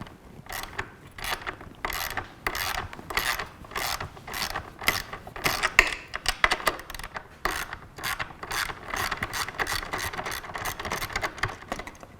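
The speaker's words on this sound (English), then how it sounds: "this is a 10mm socket to take these off" A ratchet driving a 10mm socket clicks in quick repeated bursts while loosening the bolts on the side mirror and blinker mount of a BMW S1000RR motorcycle, the pawl ratcheting close up with short pauses between runs.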